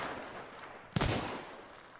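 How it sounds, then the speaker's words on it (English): A single rifle shot from the bolt-action gun in the video game Hunt: Showdown, a sharp loud crack with a trailing echo above a busy game background; no rapid follow-up shots are evident. "if I fire once, I have to rechamber that bullet before I can fire again"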